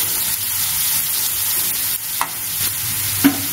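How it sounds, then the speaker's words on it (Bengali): Papaya frying in ghee for papaya halwa, a loud continuous hiss of sizzling fat close up, broken by a couple of brief clinks from a stirring spoon, with no voice. "দেখো আমরা এই ঘি দিয়ে তোমার পেঁপেটা একটু ভেজে নিচ্ছি।"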